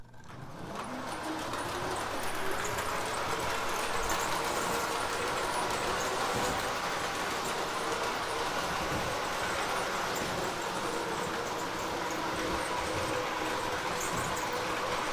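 Two O-gauge model trains rumble steadily along the track with a continuous mechanical whir and faint clicking, close and constant throughout.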